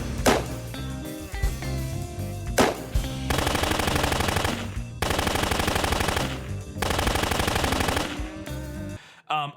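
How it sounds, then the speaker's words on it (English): Bursts of rapid gunfire in a film crackle over loud orchestral music, the shots coming in clusters with brief pauses between them. "You get like 6 gunshots by themselves."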